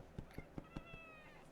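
Pet cat giving a run of short, evenly spaced chirping meows, four or five in quick succession, faint and close, followed by a thin, drawn-out higher cry.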